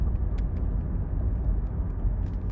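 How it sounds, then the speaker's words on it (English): A car cruising south along Broadway in a North Dakota town on a hot summer day, heard as a steady low road and engine rumble from inside the vehicle, continuous and fairly loud. "So we're still driving south on Broadway."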